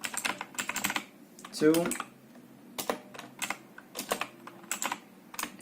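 Computer keyboard typing while writing HTML headers, a quick irregular series of close, crisp key clicks mixed with someone speaking over them.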